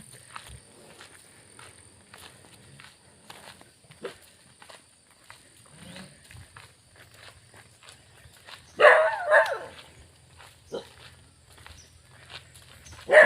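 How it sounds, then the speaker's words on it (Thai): Dogs break into a short burst of barking midway, fairly loud against a quiet outdoor background of light footsteps and small knocks. "เป็นเพื่อนกันทุกวันก็ยังเห่ากันเลย"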